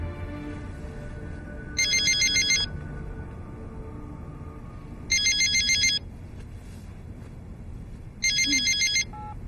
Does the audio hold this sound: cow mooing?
no